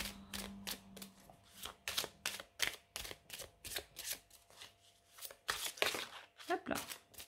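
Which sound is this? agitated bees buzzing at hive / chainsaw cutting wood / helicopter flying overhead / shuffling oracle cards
shuffling oracle cards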